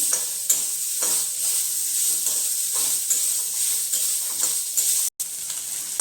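Onion sautéing in oil over a high flame until brown makes a loud, continuous hiss and sizzle up close, broken by a few soft stirring scrapes and one brief dropout near the end.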